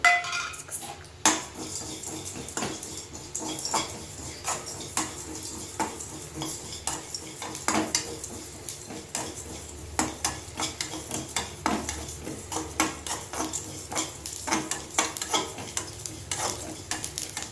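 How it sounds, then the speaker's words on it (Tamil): Whole cinnamon, fennel seeds, cloves and poppy seeds dry-roast in a pan for a homemade country chicken curry, with steady scraping and stirring, repeated metal clinks of a spoon against the pan and a faint dry rustle, close and without speech. "அதை சேர்த்து கொஞ்சம் லைட்டாக வறுத்து எடுத்துக்கலாம்"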